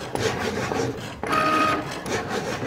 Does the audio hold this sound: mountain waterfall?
no